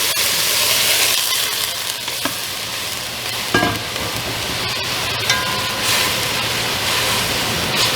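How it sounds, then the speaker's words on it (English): Water poured into a hot pot after browning pork ribs sizzles and hisses steadily, a broad continuous fry sound with a few scraping stirs of the pan bottom, close and fairly loud with no talking. "deglaze the pan."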